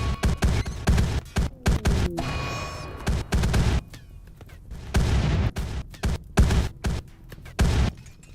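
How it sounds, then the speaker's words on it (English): Antigrain warhead submunitions detonate in the video game Rimworld, a rapid series of heavy booming blasts in irregular bursts, some clustered close together, with brief quieter gaps between them. "last of the peasants are vaporized as submunitions detonate righteously beneath their feet."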